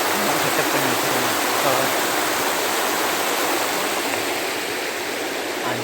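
Rushing water pours from an artificial waterfall at Brindavan Garden in Mysore, a loud, steady, dense roar that stays constant throughout.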